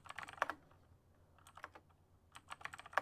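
Fingers tap on a computer keyboard in quick, uneven bursts of crisp clicks separated by short pauses, close and fairly quiet with no talk.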